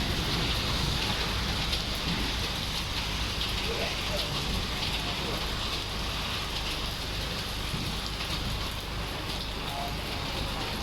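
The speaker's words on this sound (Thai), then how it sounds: "ฝนตกอย่างแรงมองแทบไม่เห็นทางเลย" Heavy rain pours down outdoors, so dense that the road ahead is barely visible. A steady, loud, unbroken hiss of rainfall holds evenly from start to finish.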